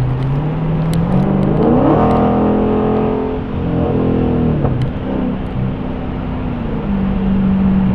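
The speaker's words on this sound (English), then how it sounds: "Very great sounding car, by the way." A car engine revs loudly and close by, its pitch rising and falling over several seconds as it accelerates, settling into a steady drone near the end; no one speaks.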